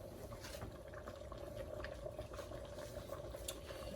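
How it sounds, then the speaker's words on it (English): A pot of okra soup simmers with its lid half on, giving a continuous low bubbling and gentle popping at an even level for the whole stretch, no voices. "we're going to cover halfway and let this simmer for 5-10 minutes"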